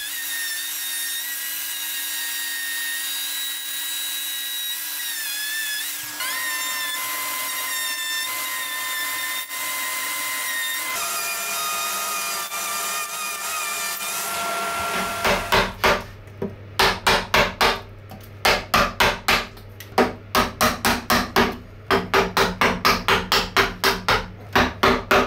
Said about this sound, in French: on va creuser un petit peu ici ce bois-là